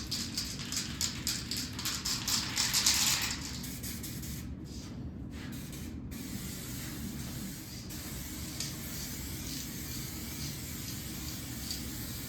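Aerosol clear coat hisses from a spray can onto a DIY speaker cabinet kit, a short close burst of spray over steady background hiss, then a quieter stretch with faint noise.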